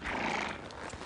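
A riding horse in a hunter-jumper stable setting, heard close with steady hoof clip-clop and a brief whinny across a short moment, loud and continuous with no talk over it.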